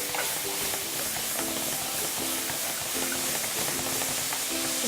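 Onions frying in a pan with a couple tablespoons of steak marinade for a one-pan steak dish give a steady, close sizzling hiss that runs the whole time, with faint stirring clatter mixed in.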